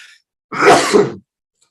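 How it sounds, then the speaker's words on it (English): A single sharp, close sneeze bursts out and stops abruptly, with near silence before and after. "I'm going to sneeze."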